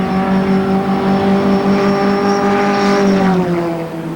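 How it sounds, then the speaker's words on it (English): A racing car driven hard during a 1989 historic handicap race at Killarney, Cape Town, its engine roaring loud and sustained at high revs, pitch slowly rising and falling as it passes, with no talk over it. "You can see he's driving that car very hard."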